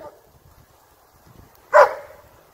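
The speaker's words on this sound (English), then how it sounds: "The pup's excited barks might be a bit much for the deer." An excited pup gives a single sharp bark partway through, loud and close, after near silence broken only by faint low rustling.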